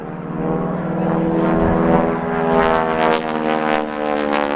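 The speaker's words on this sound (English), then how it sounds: "So this is a Harvard 2B model, which is today operated by Hurricane Heritage and the West London Aero Club at White Waltham in Berkshire." A Harvard 2B propeller aircraft, operated from White Waltham in Berkshire, flies a display at the RAF Cosford Air Show, its engine drone steady and loud throughout with a rising whine near the middle.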